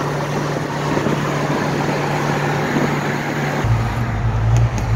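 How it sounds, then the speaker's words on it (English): A 1985 Ford Mustang GT Fox-body convertible runs in Florida traffic, its engine a steady, loud, low drone that deepens into a heavier rumble near the end. "You can hear this thing run. Listen to this thing run."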